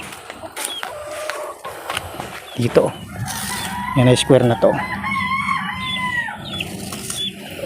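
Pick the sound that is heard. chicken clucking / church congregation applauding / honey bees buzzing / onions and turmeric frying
chicken clucking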